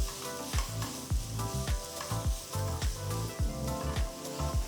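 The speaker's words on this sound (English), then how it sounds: "Saute the onions till they turn to a lovely golden color." Chopped onions sautéing with mustard and cumin seeds in a pan, a soft sizzle under a steady, evenly spaced series of rhythmic thumping strokes, close by, with no voices.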